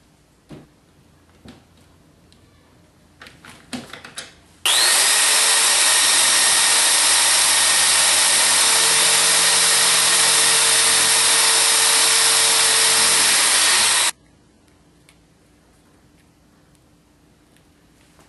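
A power tool runs steadily and loudly for about nine seconds while back wooden pieces go onto a homemade pinball table, with a few close knocks and handling sounds before it starts and quiet afterwards.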